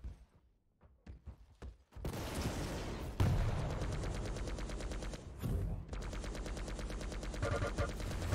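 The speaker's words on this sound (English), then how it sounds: "That's a lot of nail gun damage and a rail for good measure as well." Rapid weapon fire in a Quake duel match: a few sharp isolated shots, then a dense, loud, sustained stream of nail gun projectiles with gunfire bursts, continuous to the end.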